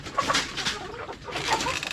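Chickens clucking and calling close by, several short overlapping calls scattered through the clip with steady farmyard background noise.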